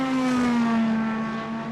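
Corvette race car in a racing video game, its engine holding a loud, steady tonal drone with a slowly falling pitch and strong harmonics, heard alone with no talk.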